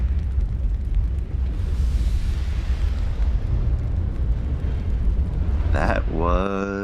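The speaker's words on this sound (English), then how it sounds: "That was a magazine explosion, I think." A ship's magazine detonates in the naval warfare game Ultimate Admiral: Dreadnoughts, a loud, sustained rumbling blast under steady battle noise, ending in a sharp tonal burst near the close.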